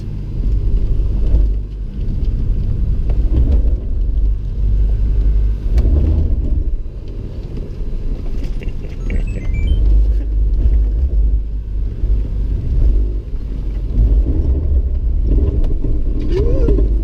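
An off-road vehicle on a trail at Turkey Bay idles in first gear over obstacles, a loud steady low engine rumble close by throughout with occasional revs, and voices faintly in the background.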